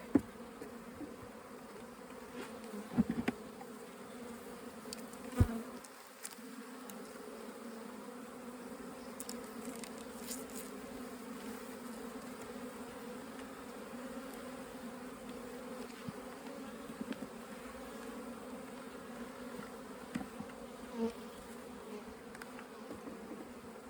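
Honeybees in a small hive colony drone in a steady, dense buzz close by, a continuous hum with a few soft knocks and clicks.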